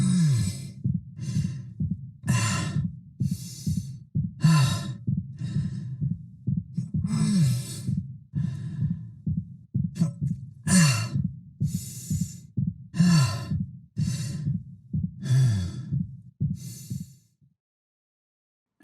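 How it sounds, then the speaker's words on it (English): Pained winces and fatigued, labored breathing from the injured protagonist in the Dead Space Remake, a rhythmic run of heavy inhales, exhales and short gasps, close and isolated, fading out near the end. "hearing those injured winces, those fatigued breaths mixed in with his regular breathing actually sounds quite natural"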